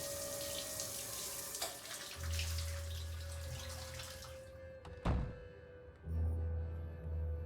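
A shower runs in a bathroom in the Nancy Drew game The Phantom of Venice, a steady close rushing hiss that cuts off abruptly, followed by a sharp thunk and a low hum.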